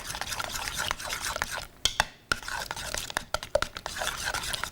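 Buckwheat pancake batter stirred in a bowl, with brisk uneven scraping and clinking of a utensil against the bowl, close and moderately quiet, broken by a couple of short pauses.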